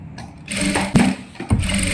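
A domestic sewing machine stitches folded silk fabric for a girl's skirt and blouse, with a short mechanical whir broken by sharp clicks and thumps as the fabric shifts, close and fairly loud.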